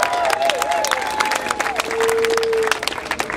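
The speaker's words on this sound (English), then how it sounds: "can we just give a big round of applause for this amazing weather as we're getting to work?" Applause and cheering rise from an outdoor rally crowd in fine weather, a busy wash of clapping with a whistle-like tone riding over it early on.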